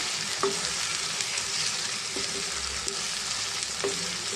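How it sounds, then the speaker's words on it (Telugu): Tomatoes fry in a pan with crushed garlic and cumin, a steady loud sizzle with a few faint stirring clicks, close and continuous with no voice. "ఈ టమాటా కూడా బాగా మగ్గేదాకా మనం ఫ్రై చేసుకున్నామండి"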